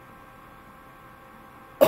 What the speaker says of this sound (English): Oh crap, I got a cough.